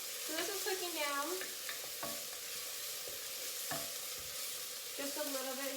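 Millet pilaf ingredients sizzle and cook down in a pan, with repeated stirring scrapes over a steady, fairly quiet frying hiss.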